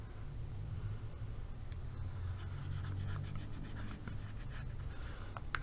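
Pencil writing on paper, close up in a quiet room: scratchy strokes start faint, then grow into a busy run of quick scribbles and taps toward the end.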